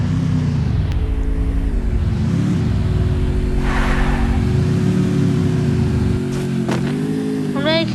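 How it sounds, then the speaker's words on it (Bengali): A car engine in the Free Fire video game drones loudly and steadily, its revs climbing and dropping in repeated waves, with a few faint clicks near the end. "আমরা গাড়ি পিএস বাইক রেস করবো"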